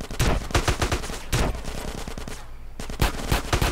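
Pistol gunfire in GTA San Andreas comes as rapid, loud bursts of shots in quick clusters, with a brief lull before more shots resume.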